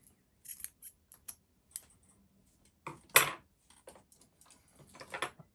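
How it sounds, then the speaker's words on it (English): Scissors cut through weaving yarn on a domestic knitting machine: a few quiet, scattered snips and clicks, with one louder close cut near the middle and a short flurry at the end. "I will cut my weaving yarn"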